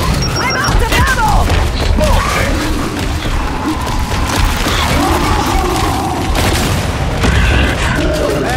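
Frag grenade detonation in Gears 5 amid heavy combat, a loud deep boom over constant gunfire and mechanical clatter, with voices shouting in the mix.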